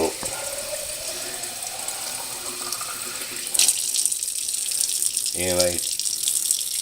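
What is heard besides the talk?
water being poured to measure 8 ounces for bread dough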